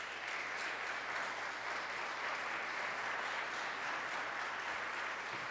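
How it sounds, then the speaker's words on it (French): A church congregation at a Nativity Mass applauds the choir with sustained, dense applause, an even wash of many hands clapping at moderate distance, steady throughout without talk. "Je vous demande de les applaudir chaudement,"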